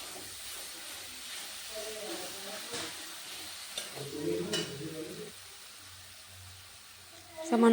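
Soya chunks stirred into spice paste in a pan for bottle gourd curry, a faint sizzle and hiss with scraping stir strokes, quiet and close, louder clatter at the very end.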